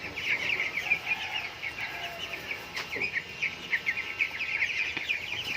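Farm chickens, hens kept as backyard poultry, cluck and chirp in a steady murmuring chorus, with small high calls running continuously across the scene at moderate distance.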